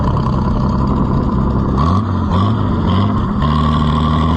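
Farmers Union Co-op tractor engine on a test drive, a loud steady rumbling drone that shifts pitch as it labours and revs, continuous throughout with no voices.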